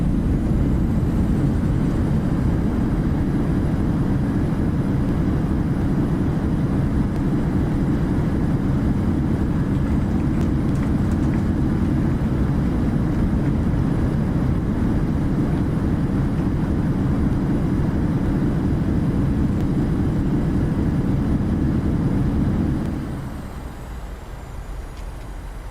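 PMDG 737-800 airliner rolling out on the runway in Microsoft Flight Simulator in light rain: a loud, steady broadband roar of engines and wheels that holds for over twenty seconds, then drops off sharply near the end.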